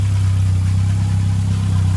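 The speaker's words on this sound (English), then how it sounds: "So, engine's running." A Ford Escort Cosworth engine idles steadily, a close, loud, even low hum that holds unbroken throughout with no talking.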